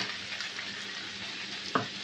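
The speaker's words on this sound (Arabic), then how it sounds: "نخلطو هدا مع البياطة" A spoon stirs a chicken, carrot, zucchini and potato filling in a pan, a soft, close, continuous sizzle with quiet scraping and one brief louder scrape near the end.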